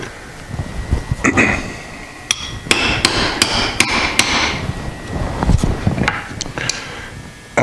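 A hammer strikes dowel pins into the halves of a Doall bandsaw gearbox case: a series of sharp, close metallic taps, some single and some in quick clusters, with short pauses and small handling noises between them.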